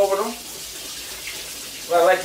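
A tap runs cold water over freshly boiled eggs for potato salad, giving short bursts of close splashing at the start and end with a softer trickle between, and no talking.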